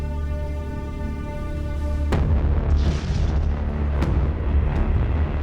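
Violent primordial storm on early Earth with thunder: a sudden loud boom cracks in about two seconds in, followed by rolling rumble and further sharp claps near four and five seconds, with no voices.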